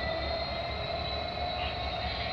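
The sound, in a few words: CP freight train at Kinnear Yard, Hamilton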